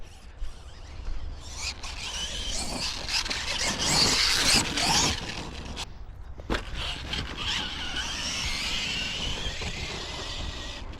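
An RC truck drives across rough ground with whirring motor, clattering wheels and bursts of revving, steady and fairly close for the whole stretch.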